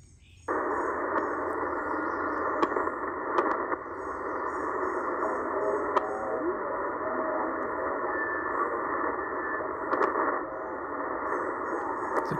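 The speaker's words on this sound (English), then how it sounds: "Almost sounds like an international broadcast, but it's down on the noise." Steady broadband shortwave static and hiss from a Tecsun PL990X radio scanning the 6 to 7 MHz band in a park, continuous and fairly loud, with a faint buried broadcast signal and occasional clicks as the tuning moves.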